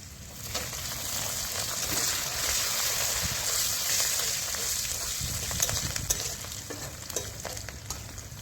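Whole garlic cloves frying with lightly browned onions in a pan, a steady close sizzle with scattered stirring scrapes and taps throughout, no voices.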